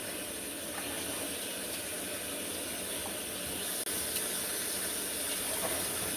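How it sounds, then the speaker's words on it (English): Tap water running steadily while a glass pot cover is rinsed in a kitchen sink, a continuous close hiss with one brief click partway through. "I'm gonna just get the cover rinsed off."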